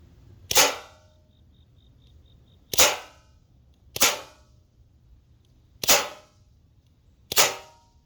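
Crosman DPMS SBR CO2 BB rifle firing: five sharp, loud cracks spaced about one to two seconds apart, each decaying quickly into near-silence, with no talking.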